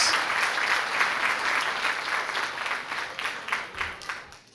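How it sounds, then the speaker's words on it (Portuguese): Church congregation applauding Jesus during a sermon on generosity: dense, sustained clapping from many hands that holds steady, then softens and breaks up toward the end. "Você pode aplaudir Jesus porque existe provisão do céu na nossa vida"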